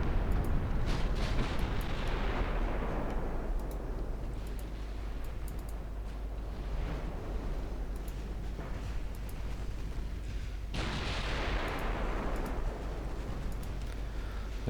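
Naval gunfire in the warship battle game Ultimate Admiral Dreadnoughts, with big guns on cruisers firing: a continuous heavy rumble with deep booming salvos near the start and again later, loud and dense.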